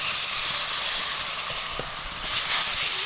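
Milk poured into gram flour roasting in hot ghee gives a steady, close sizzling hiss that holds through the whole moment and dips slightly midway.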